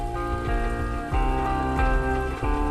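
Steady heavy rain patters down in the woods, a dense continuous wash of drops at even loudness over a low background hum, with no voices.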